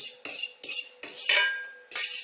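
A utensil spreads oil across the bottom of a stainless steel frying pan, making about five close, rhythmic scraping strokes with a metallic clink at the start of each pass and no talking.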